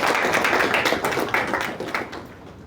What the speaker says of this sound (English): please join me in extending warm welcome to Mr. Mohammed Anzy S with a round of applause